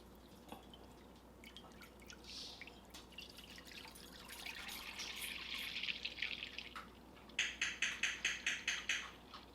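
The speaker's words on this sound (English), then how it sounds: "you'll pour a gallon of milk in your crock pot" A gallon of milk is poured into a crock pot, a soft trickling pour that swells into a steadier gush before ending in a run of quick, rhythmic glugs from the jug, quiet and close with no talking.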